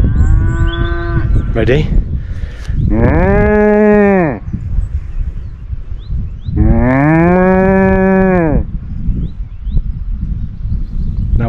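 A person imitates a cow with two long, loud, drawn-out moos near the mic, the second lasting about two seconds, among cattle on a farm, with a brief spoken word at the start.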